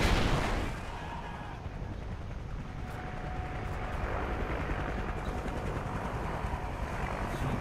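A friendly Hind attack helicopter arrives during a Call of Duty Ghosts team deathmatch, its dense rotor roar steady and loud throughout, with a washed-out blast of gunfire and explosions at the start.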